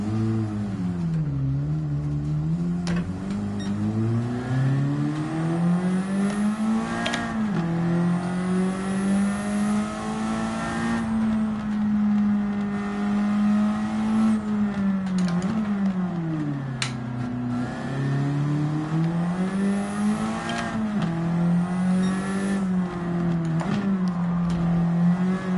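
A car engine in Gran Turismo 7, a drift car, revs steadily and loudly throughout, its pitch rising and falling in smooth sweeps as the throttle is worked, with no talk over it.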